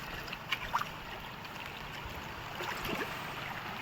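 Water released into a paddy field, flowing with a soft, continuous rushing trickle and a few faint splashes, fairly distant and quiet.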